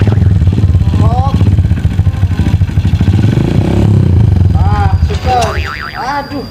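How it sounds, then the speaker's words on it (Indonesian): An old, beat-up motorcycle engine runs with a low, steady rumble and some clatter, while people talk and exclaim loudly over it throughout. "Ih motor butut ieu mah."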